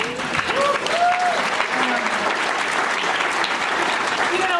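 A crowd at a Bay Area writers' event for nonprofits claps warmly, with scattered voices and cheers rising through a steady, fairly close round of applause.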